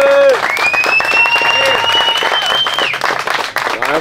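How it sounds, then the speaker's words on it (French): At a motocross event at Croix-en-Ternois, people clap for the mechanics, scattered hand claps under close, loud talk and a tonal whistle-like sound, the clapping partly masked by voices. "Allez, on applaudit les mécanos aussi"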